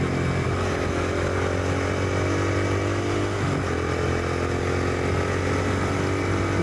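A Yamaha YBR-125G motorcycle riding at moderate speed, its engine droning steadily and loudly with a constant buzzing tone, a brief dip mid-ride, under steady wind noise and with no talking.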